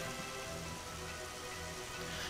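Steady rain in the Giza Plains of the video game Final Fantasy 12, a dense, even patter of drops on surfaces that holds constant throughout with no voices.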